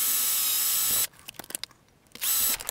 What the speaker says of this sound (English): I need to go and drill some holes for that first of all